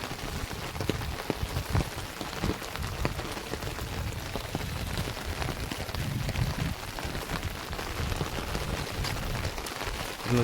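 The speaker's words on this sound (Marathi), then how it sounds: "जबरदस्त पाऊस पडला" Heavy monsoon downpour in Konkan, a dense, steady roar of rain striking the ground and water, loud and continuous throughout with no voices.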